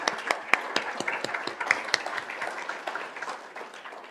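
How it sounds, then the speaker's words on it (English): Scattered applause from people at a school governing board meeting, quiet and brief, with uneven sharp claps spread across a few seconds. "We can go ahead and clap for him."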